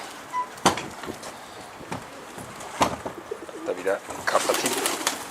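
Pigeons cooing in a closed loft, a few soft calls scattered among sharp knocks and rustling, with a voice speaking intermittently nearby.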